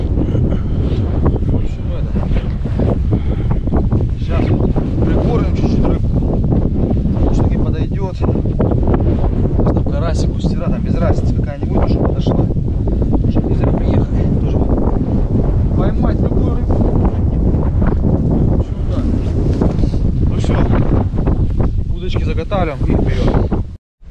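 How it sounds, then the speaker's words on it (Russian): Strong wind at a fishing spot in Timashevsky district, Russia, buffets the microphone nonstop, a loud rushing roar with gusty crackles and no pause. "Ветер так и не прекратился. Всю ночь дул."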